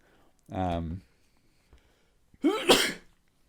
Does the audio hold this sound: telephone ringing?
no